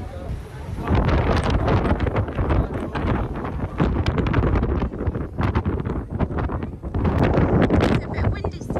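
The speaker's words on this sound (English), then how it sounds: "it's blooming windy up here." Strong gusting wind on an exposed clifftop near Cape Town, South Africa, buffets the microphone in heavy, roaring bursts, with a voice faintly underneath.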